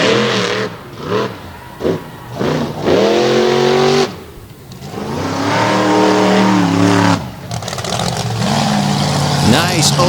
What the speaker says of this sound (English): Nice opening hit as the Marchers help put that big 557 cubic inch engine's horsepower to work